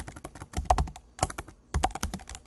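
Typing a Linux command on a computer keyboard: three quick clusters of sharp, close key clicks separated by brief pauses, with no talking.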